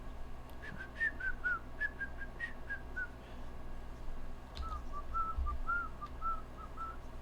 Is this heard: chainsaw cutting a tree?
no